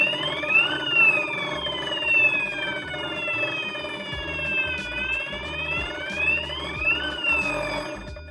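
An electronic fire alarm sounds after smoke is detected in a web-based fire detection system, its sweeping, rising-and-falling wail repeating loudly with no one speaking.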